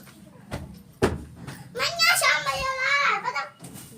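Two young children shout and call out in high, excited voices outdoors on a windy day while chasing kites, their cries rising loudly over a couple of sharp knocks and background rustle.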